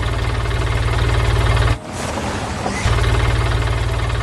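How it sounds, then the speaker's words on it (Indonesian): Yellow forklift engine running steadily and fairly loud with a low pulsing drone, briefly dropping for about a second before resuming, on a farm by a barn. "Lihat, sebuah forklift kuning mulai beraksi keluar dari lumbung."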